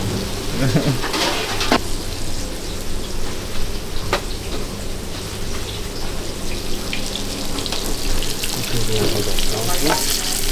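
Food sizzles steadily in a pan at a long-established snack bar in Bremen, a dense continuous frying hiss with occasional utensil clinks and scrapes throughout.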